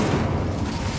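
An Incendio fire spell cast in Hogwarts Legacy gives a dense, loud burst of roaring flame, a thick rumbling whoosh that fills the whole second without any gaps.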